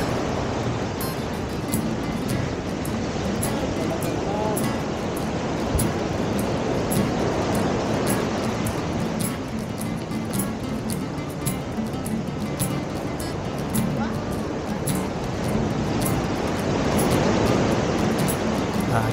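Strong ocean waves after a storm, a continuous broad roar of surf with slow surges rising and falling, loud and close throughout.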